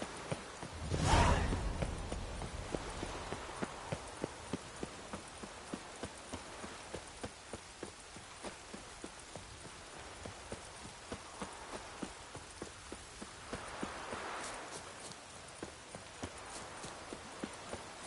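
In The Witcher 3 video game, the horse Roach gallops with steady, rhythmic hoofbeats that run the whole time, moderately close, with a whoosh near the start.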